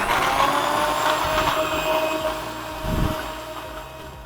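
A Sujata mixer grinder runs steadily while blending coffee, a loud continuous whirring motor drone with a brief surge near the end.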